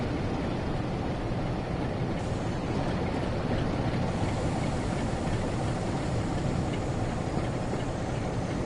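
Continuous heavy roar of a British Rail Class 47 diesel locomotive under way in Train Sim World 5, steady engine drone mixed with rolling wheel and rail noise, loud and unbroken throughout.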